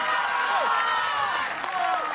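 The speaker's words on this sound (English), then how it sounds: "you can hear round of applause there for big Simon Knowles" Crowd at an outdoor Highland Games in the Peak District applauding and cheering for strongman Simon Knowles, a brief steady wash of clapping and shouts heard from a moderate distance.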